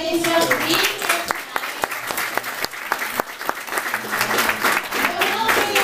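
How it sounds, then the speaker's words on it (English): Audience at a fashion show applauds the women on stage, a loud, dense burst of clapping with sharp individual claps and cheering voices woven through. "Round of applause for the ladies who have being here tonight."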